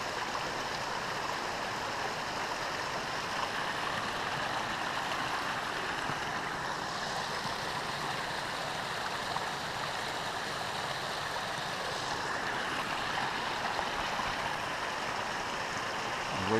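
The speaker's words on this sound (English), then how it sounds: "Came across a nice waterfall. It's blowing pretty good, you can hear it." A waterfall rushing steadily in a forest on a hike near Diamond Lake, a constant broad roar heard from some distance, fairly faint and unbroken, with no talking.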